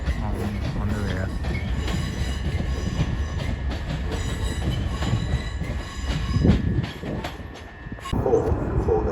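A Class 376 electric multiple unit, number 376 023, moving through a London terminus, with a steady rumble of wheels and rail noise, a faint squeal and shifting clatter continuing throughout.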